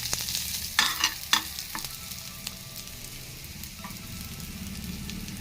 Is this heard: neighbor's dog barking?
no